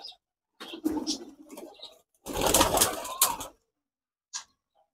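A pigeon let go from the hand, with a burst of wing flapping and scuffling close by, brief coo-like calls before it and a short final sound after a pause.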